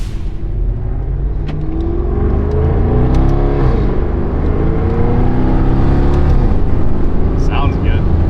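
A 4.0T car pulls away under steady acceleration, its engine note climbing in pitch over a continuous loud rumble, with voices talking over it.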